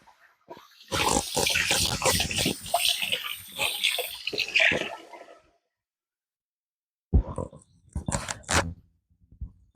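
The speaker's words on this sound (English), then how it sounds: "I'm going to rinse my hands off here because I got some egg on my" Water splashes from a tap as raw egg is rinsed off hands, in two close, uneven bursts separated by a few seconds of quiet.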